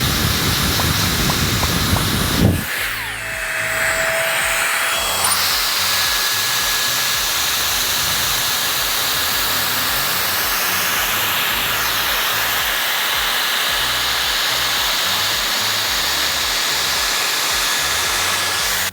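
A Dyson Airstrait hair dryer-straightener blows air in a loud, steady roar for a long stretch, its pitch briefly shifting near the start before settling.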